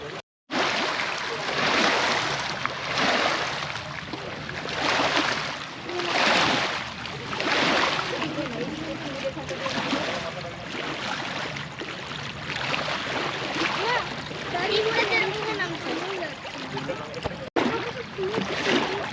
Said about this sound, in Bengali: ঢেউয়ের আওয়াজও শুনতে পাচ্ছেন